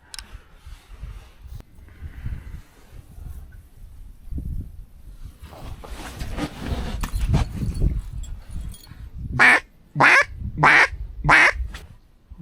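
Ducks on a river during a solo public-land duck hunt: after a stretch of quiet rustling and low rumble, four loud, close quacks burst out in a quick, even series near the end.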